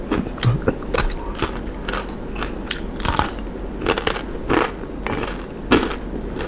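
Someone bites into crispy fried frog and chews it up close, with loud, dense crunches and crackles repeating steadily.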